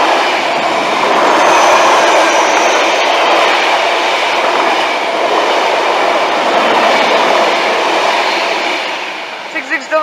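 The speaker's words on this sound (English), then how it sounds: "Next up, a freight service from West Burton to Hither Green." A Class 66 diesel locomotive hauls a freight train past on a line toward Hither Green, making a loud, steady rumble and rush of rolling wagons that fades near the end.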